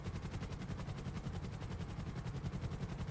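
A drone gyrocopter in GTA Online gives a loud, steady, rapid rotor chop with a continuous engine drone, fluttering evenly throughout and heard alone with no talk.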